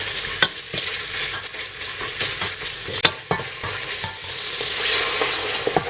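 Green curry paste frying in hot oil for a pork green curry gives a steady, close sizzle, broken by sharp clicks and scrapes of stirring.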